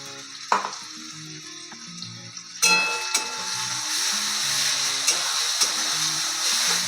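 Ground spice paste for chicken curry hits hot oil with a sharp burst, then fries in a steady, close sizzle, with occasional utensil knocks and stirring sounds throughout.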